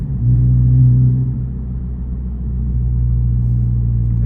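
A manual transmission car engine pulls under light throttle while driving, a loud, close, steady low rumble that dips slightly midway and then holds firm.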